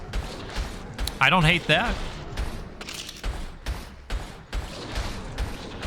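Gunshots from the roguelike game Ashes Remember Us pop in quick, scattered bursts throughout, while someone talks over part of the action.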